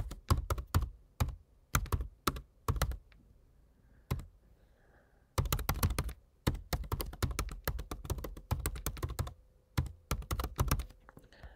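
Bursts of quick key presses as a folder path is typed on a computer keyboard, close and clear, with a couple of short pauses between runs of clicks and no talking.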